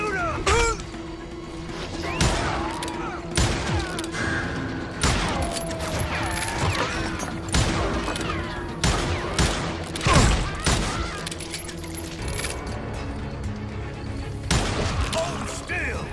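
Gunfire in the Call of Juarez Gunslinger video game, rapid loud volleys of shots with ricochets and impacts scattered across the whole stretch, over background game sounds and occasional voices.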